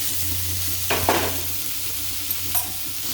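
Bhetki fish paturi wrapped in leaves fries in a covered frying pan with a soft, continuous sizzle over a low hum, broken by a couple of brief clatters and scrapes.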